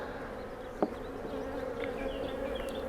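Honey bees hum steadily around an open hive during a virgin queen check, a close, continuous drone with individual bees buzzing past the hive.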